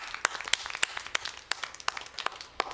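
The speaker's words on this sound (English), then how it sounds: "let's give a little round of applause for this incredible turnout" A small comedy-show audience gives a sparse round of applause, a few distinct hand claps spaced out at an uneven pace.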